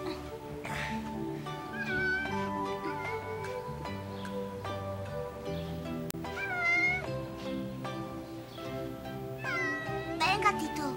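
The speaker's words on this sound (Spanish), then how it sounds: "ese gato se subió al árbol y no se quiere bajar" A cat stuck up a tree meows repeatedly in drawn-out, rising cries, fairly near, while people talk in Spanish and a light musical backing plays beneath.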